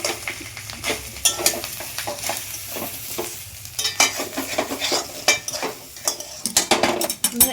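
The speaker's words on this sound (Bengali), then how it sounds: "সেই মটরশুঁটির পেস্টটা দিয়ে দিচ্ছি এবার ভালো করে আমি নেড়ে করে নেব" Green pea paste is stirred in a pan with a utensil, giving repeated scraping and scratching strokes over a soft sizzle of frying, close and fairly quiet.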